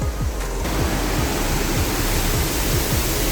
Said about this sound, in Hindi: ये दोस्तों जहाँ पानी गिर रहा है देख रहे हैं कितना बेहतरीन लग रहा है।